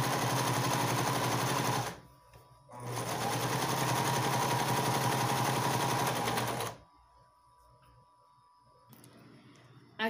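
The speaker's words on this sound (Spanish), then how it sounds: "voy a empezar a sobrecosturar a 1 centímetro de margen de costura" A sewing machine overstitches fabric at a 1 cm seam allowance while a dress is being made, running in loud steady bursts with a short pause, then stopping into near quiet.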